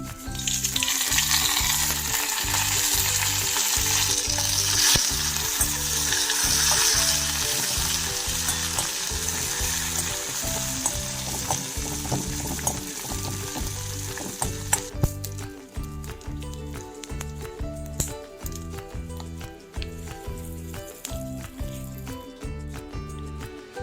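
Mustard seeds and tempering spices crackle and sizzle in two spoons of hot oil in a kadai for a Telugu moong dal idli chutney, a loud, steady frying hiss with rapid popping that eases off toward the end, no voices.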